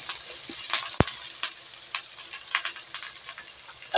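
Garlic and onion fry in a little cooking oil in a pan, a close, continuous sizzle with occasional stirring scrapes and one sharp knock.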